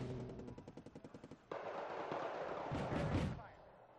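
An artillery salvo fires in the war strategy video game Wargame Red Dragon: a rapid rattling burst of about a dozen shots, then a loud sustained roar and rumble that swells and fades.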